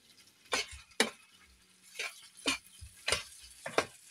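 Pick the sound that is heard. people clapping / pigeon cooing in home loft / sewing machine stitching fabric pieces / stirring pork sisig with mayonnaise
stirring pork sisig with mayonnaise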